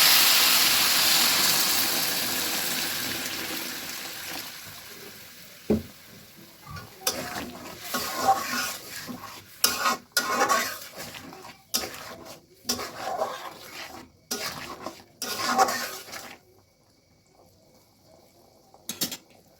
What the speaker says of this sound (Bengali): গরম জল দেওয়ার কারণে ঝোলটা সঙ্গে সঙ্গে ফুটে উঠেছে